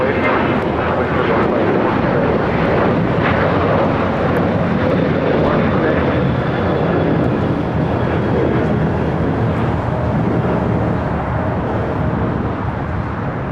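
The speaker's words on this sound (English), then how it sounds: "This is Delta Airlines 1865 taking off to Puerto Vallarta on a 737-800." A Delta Air Lines Boeing 737-800 takes off at LAX, a loud, steady broadband jet roar that fills the whole stretch, with voices talking over it now and then.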